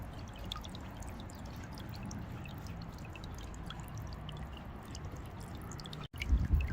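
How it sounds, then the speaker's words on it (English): Water flows steadily from a solar-powered pump fountain, a continuous close splashing trickle that cuts out for an instant near the end before returning slightly stronger. "As you can see, the water is flowing"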